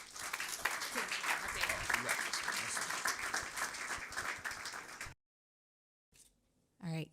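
A crowd at an evening community event on the cost of Jim Crow applauds a speaker, sustained dense clapping with some cheering for about five seconds, then silence before a voice begins speaking.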